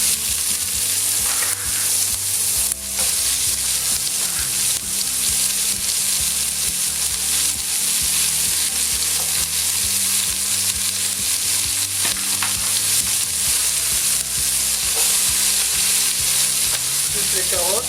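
Onions sizzle loudly in a pan beside set-aside braised pork shank, a dense, unbroken frying hiss with a few stirring knocks, close up and without speech.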